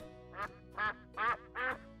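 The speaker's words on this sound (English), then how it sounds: "Say what animal Yap can hear. Duck. A duck" A duck quacks four times in an even rhythm, clear and fairly close, each call short and nasal with a short gap between them.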